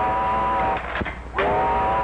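A steam train's whistle sounds loud and sustained over heavy rumbling and hiss from the engine, without speech.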